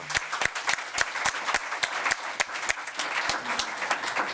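Audience applause fills a Board of Supervisors meeting room: many hands clapping at once in a dense, steady burst with sharp individual claps standing out, and no talking over it.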